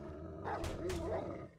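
Growls from a pack of coyotes in the video game 7 Days To Die, two short rough snarling bursts close by over a steady low game background, no talk.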